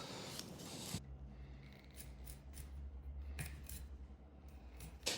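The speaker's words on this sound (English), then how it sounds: "And here's my broccoli, which I will cut into florets." Knife cutting broccoli into florets on a board, with one sharp crunching cut near the start and then soft, quiet snipping and rustling, plus a few faint ticks, close and alone without talk.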